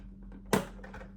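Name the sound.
KYT TT Revo helmet visor clicking into lock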